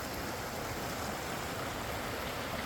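A clear stream on the Lower Diamond Falls trail in the Pacific Northwest rushes over rocks in a steady, close, unbroken wash of water with no voices.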